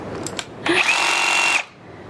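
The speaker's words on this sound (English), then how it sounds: "Did you just saw some of the chili con carne in half with a power tool?" A power saw cuts through a block of frozen chili con carne in one loud, close, buzzing burst of about a second, after a couple of short clicks.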